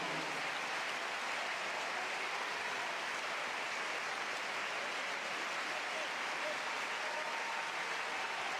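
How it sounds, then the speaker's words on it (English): Steady, dense basketball crowd applause at a Serbia v Israel FIBA World Cup qualifier fills the clip, a broad wash of clapping and cheering that holds at an even level throughout. "Listen to the crowd here."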